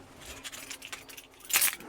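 Close-up keys jingle and rattle briefly, with soft metallic clinks building to a brighter jangle near the end.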